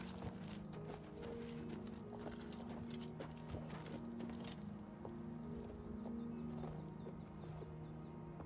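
Rhythmic hoofbeats from a horse in the video game Oblivion clop steadily, moving at pace, with a low hum and scattered background sounds beneath.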